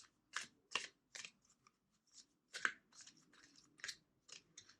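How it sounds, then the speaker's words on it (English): Tarot cards are shuffled by hand in quiet surroundings, giving a series of crisp, close riffling bursts with short pauses between them. "Two more shuffles."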